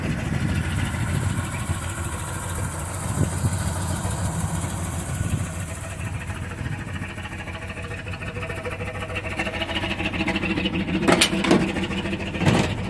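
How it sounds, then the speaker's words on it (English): A 1973 Ford F-350 dump truck engine idles steadily and up close, a continuous mid-pitched rumble with a few sharp clicks near the end. "The truck runs good."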